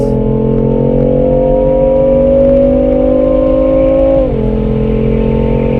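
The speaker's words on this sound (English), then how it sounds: "It's like as if the engine noise through the speakers is amplified." Steady loud engine drone heard from inside a BMW M2 on a race track, holding a constant pitch then dipping slightly as it shifts, with a faint whir of wind.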